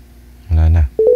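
A telephone sounds short dialing tones to call back, after a brief spoken word, with several quick beeps close up.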